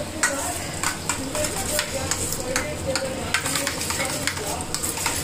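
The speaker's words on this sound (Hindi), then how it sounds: "यहाँ पे बिरयानी हम छौंक दिए हैं" Steady sizzling and crackling of biryani tempering, spices frying in hot oil in a pot, with occasional stirring clinks, continuous and fairly close.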